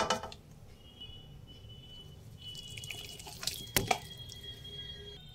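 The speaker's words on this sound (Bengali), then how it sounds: "চাল দেখুন খুব ভালোভাবে ভিজে গেছে। আমি জল ফেলে দেব।" Soaking water draining off rice for chicken dum biryani, with quiet drips and trickles and a few sharper splashes near the end, close and faint.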